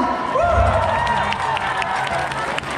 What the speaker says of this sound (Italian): Un applauso anche a mia sorella!